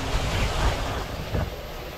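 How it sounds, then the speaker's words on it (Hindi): Wind gusting across open agricultural land on a cold day, a steady broadband rush with low buffeting swells, fairly loud and close, with no voices over it. "वाओ नाइस हवा चल रही, नाइस वेदर हो रहा"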